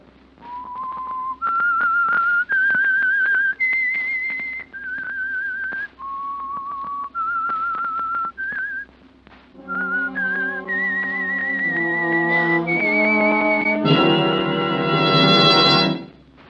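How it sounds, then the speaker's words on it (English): A whistled melody of sustained, clear notes stepping up and down, the signature tune of a radio drama, later joined by an orchestral swell of layered tones building to a loud finish. "That whistle is your signal"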